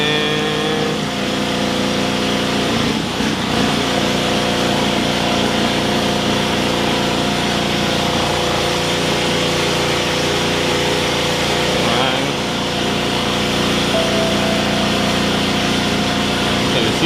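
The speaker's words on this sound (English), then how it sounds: "when I put everything back together and start the engine" A BMW N63 twin-turbo V8 in a 750i, 650i or 550i runs steadily after starting, a continuous loud close engine drone with a faint brief rise midway.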